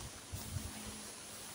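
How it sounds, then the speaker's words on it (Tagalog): Steady wind roars and buffets the microphone just after a typhoon, a broad constant rush with low rumbling gusts and no voices. "Lakas ang hangin."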